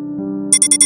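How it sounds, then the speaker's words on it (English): A Roblox Brookhaven alarm clock rings in four quick, shrill bursts, loud and close, cutting in over a sustained low musical tone. "Your alarm is going off!"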